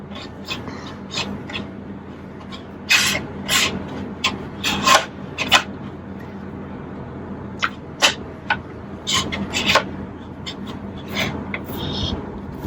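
Paper rubbed by hand over bok choy coated in black paint for a vegetable block print, a soft papery scraping with irregular bursts of brisk strokes, close and fairly quiet.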